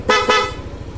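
A Yamaha NMAX scooter on its stock exhaust gives two quick, loud revs over a low, pulsing idle.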